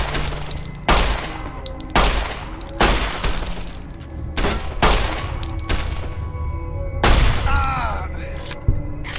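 Gunfire in the video game Fallout: New Vegas, a series of loud, close gunshot blasts spaced about a second apart, with voices talking between and over the shots.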